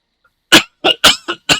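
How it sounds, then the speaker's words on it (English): Five sharp coughs in quick succession, close and loud, with brief pauses between them and no talking. "I have to cough, hang on."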